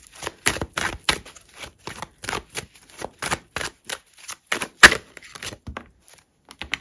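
Playing cards being shuffled and dealt for a four-card tarot-style reading, a steady run of quick papery slaps and riffles, close and fairly soft, with no talking.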